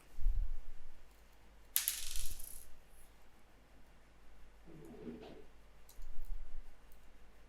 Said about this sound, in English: Now we'll close it with the help of a nut and then an axial lock.